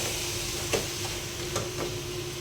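Chicken curry cooking in a thick-bottomed pot for biryani gives a steady low simmering sizzle with a few soft stirring knocks, close and unaccompanied by speech.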